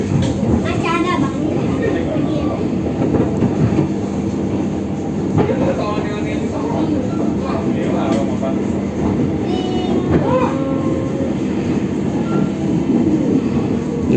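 The Minangkabau Express airport train pulls into Padang station with loud close rumbling, clanking wheels and brief squeals, while people talk throughout.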